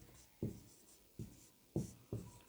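Marker or chalk writing on a board during a Hindi-language exam-prep lesson, four short, fairly faint strokes spaced about half a second apart in an otherwise quiet room.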